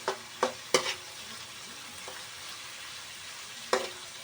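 Onions cooking slowly over low heat in a pan, a faint steady sizzle broken by a few sharp scraping stirs near the start and one more near the end, close and quiet.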